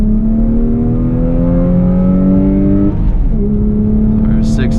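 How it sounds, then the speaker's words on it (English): A 2002 Lexus IS300 with an inline-six and manual transmission pulls from about 5 mph, its engine note climbing steadily in a loud, continuous drone with a brief dip near the gear change, heard from inside the cabin. "we'll do a little 5-mile-an-hour pull here"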